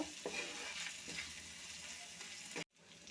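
Onion and garlic fry in oil with a soft, close sizzle broken by a few stirring scrapes, then cut off abruptly near the end.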